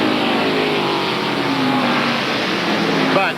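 Roar of NASCAR stock cars racing at the 1993 Hanes 500, a sustained engine drone with a car's pitch sweeping past near the end, under broadcast commentary.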